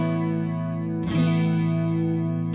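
Electric guitar chord ringing through a Julia pedal set as a subtle chorus, with a slow rate and low lag, sustained and steady, with a fresh strum near the middle and no voices.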